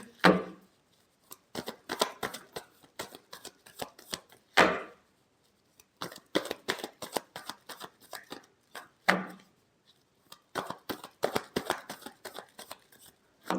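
Tarot cards being shuffled close up, repeated bursts of quick crisp riffling and slapping in uneven clusters with short pauses between them.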